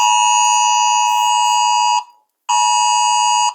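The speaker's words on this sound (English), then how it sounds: "I should rate the iPhone alarm" An iPhone emergency alert alarm blares loudly and close, a harsh steady two-toned tone held for about two seconds, a short gap of silence, then sounding again.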